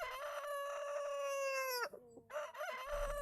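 A rooster crows close and loud, a long sustained cock-a-doodle-doo with a break near the end, alone.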